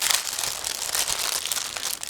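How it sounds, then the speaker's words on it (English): Plastic bag holding a mixed set of model kit sprues being opened, giving a close, continuous crinkling and rustling of thin plastic for about two seconds with no talking. "Next we continue with a mix of various sprues in one plastic bag. So again, I will open them in a second"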